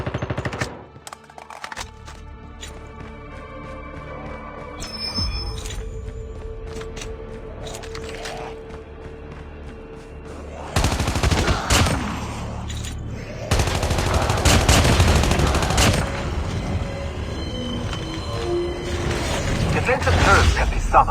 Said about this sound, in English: Defensive turrets can be summoned, but if they are placed as the zombies pass, they will automatically attack.